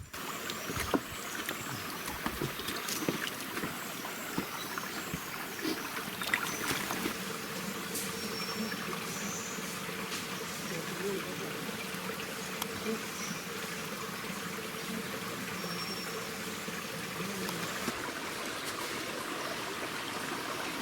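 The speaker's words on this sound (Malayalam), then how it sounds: "കാടിൻ്റെയും വെള്ളച്ചാട്ടത്തിൻ്റെയും പ്രകൃതിയുടെയൊക്കെ ശബ്ദം" Water flows through a forest near a waterfall on a trek around Vazhachal, a soft continuous rushing and trickling with faint insect buzzing in the background and no voices.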